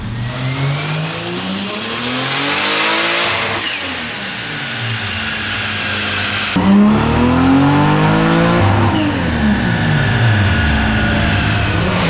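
A Nissan R34 Skyline screams through dyno pulls, loud and close, its engine revving hard and climbing in pitch, dropping off, then ramping up again in a second sustained pull with a rough exhaust edge.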